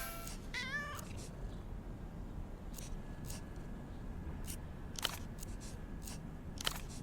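Meowing cat in the video game Zero Parades: For Dead Spies, with a clear rising and falling meow near the start over a steady ambient game backdrop, followed by scattered soft clicks.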